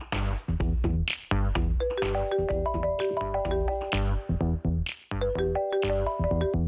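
A mobile phone ringtone plays loud and close: a bright electronic melody of repeated chiming notes in phrases that restart with brief gaps and keep going throughout.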